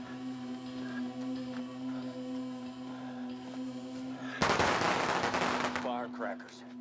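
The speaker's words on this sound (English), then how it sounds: "Firecrackers." Firecrackers go off in a sudden, dense crackling burst lasting over a second, rising out of a steady low hum and then giving way to a brief trailing sound.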